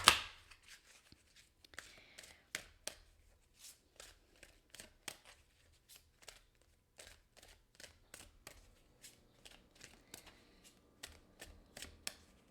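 Deck of angel oracle cards being shuffled by hand, crisp riffling snaps and flicks repeating in irregular quick bursts throughout, close and fairly quiet.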